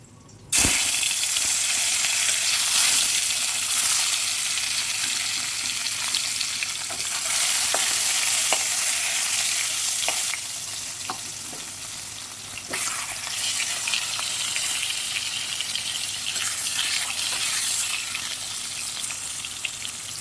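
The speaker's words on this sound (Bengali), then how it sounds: "কই মাছগুলো ভাজা হয়ে গেছে" Koi fish fry in hot oil in a wok with a loud, continuous crackling sizzle that runs steadily for about twenty seconds, broken by occasional sharp pops and ticks, with no speech.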